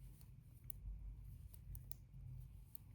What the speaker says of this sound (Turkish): Bir ilmek daha kestim.